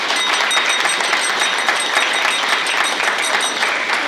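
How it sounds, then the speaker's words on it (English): Sustained applause from a banquet audience at an officers' event following a bowling tournament weekend, dense steady clapping close and even throughout with no talk. "another round of applause"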